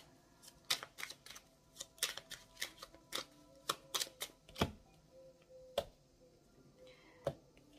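A deck of tarot cards is cut and shuffled close up, giving sharp, irregular snaps and clicks of card against card in quick bursts with brief pauses, on a quiet background without talk.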